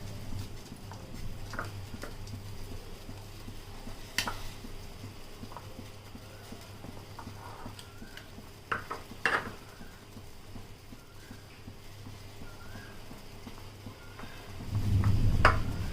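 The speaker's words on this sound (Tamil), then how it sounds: "இந்த உருளைக்கிழங்கு இப்படி மசிச்சுக்கலாம்." Boiled potatoes are mashed up close, with soft irregular taps and squishes against a bowl, ending in a low rumble.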